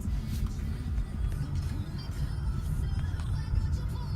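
A 2016 Mitsubishi Outlander Sport GT rolls along a side street, its engine and road rumble forming a steady, close low drone with faint cabin noise and no talking.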